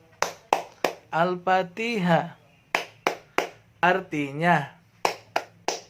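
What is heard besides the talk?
children clapping hands rhythmically in the Tepuk Al-Fatihah clapping song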